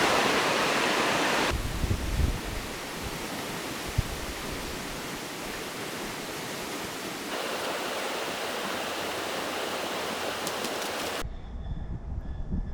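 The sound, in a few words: creek water flowing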